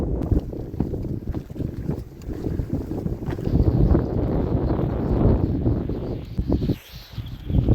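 A strong gust of wind buffeting the microphone on a boat at sea, a loud, heavy, low roar that swells and rumbles steadily for several seconds with a brief dip near the end, with no one talking.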